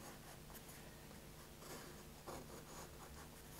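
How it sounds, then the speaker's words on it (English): A Sailor Fude fountain pen drawing ink lines on paper, scratching steadily in short and longer strokes, close and quiet, with no talk. "Just drawing the outside of those shapes."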